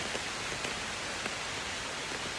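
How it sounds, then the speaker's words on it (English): Steady rain falls on the roof of a tree stand outdoors, a dense even hiss with faint scattered drops tapping nearby throughout, no voices. "This is great that it's raining"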